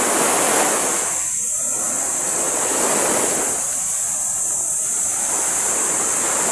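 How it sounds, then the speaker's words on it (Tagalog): Steady broadband rush of sea surf at a beach resort in Burgos, Pangasinan, with two swelling wave surges, loud and continuous, mixed with wind hiss on the microphone. "Sarap ng alon."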